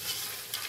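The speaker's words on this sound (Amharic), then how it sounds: "ከዛ እናማስለዋለን" Curry mixture with half a teaspoon of curry powder being stirred in a frying pan, a soft continuous sizzle with scraping stir strokes, faint and close, with no talking.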